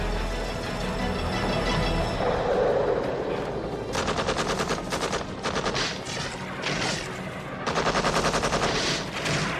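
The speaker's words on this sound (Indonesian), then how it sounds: "sniper tersebut langsung melepaskan tembakannya yang kedua" Bursts of rapid sniper rifle gunfire crackle in loud clusters, separated by brief lulls, with a steady helicopter-like background rumble throughout, in a Panama jungle.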